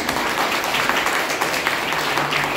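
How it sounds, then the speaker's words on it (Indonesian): Applause from a church congregation during a Sunday school sermon in Malang, a short burst of dense, even clapping throughout with no talk. "Kasih tepuk tangan itu Tuhan."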